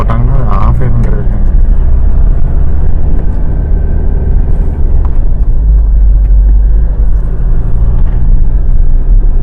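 Vehicles drive along a forest road at night in Masinagudi, a loud continuous low engine rumble and road noise from close by, with talk over it.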